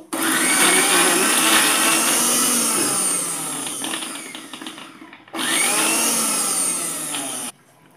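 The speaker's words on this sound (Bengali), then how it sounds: "যাদের পাটা পুতা নাই তারা ব্লেন্ডার করেও খেতে পারো" An electric blender grinds onions for a mash loudly and steadily, stops briefly, then whirs up again for a second burst before cutting off.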